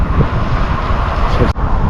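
Strong tailwind buffeting a microphone during a group road cycling ride, a loud, rumbling roar that gusts unevenly for a couple of seconds.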